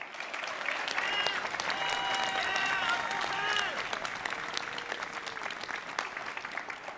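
Audience at a university graduation ceremony outdoors gives a long, steady round of applause, dense clapping from a large crowd with a few whistles and cheers mixed in, slightly distant.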